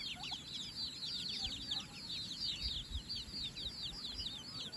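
Turkeys, including big males, at a rural home call in a steady stream of high, repeated chirping yelps, fairly near, over a low background rumble.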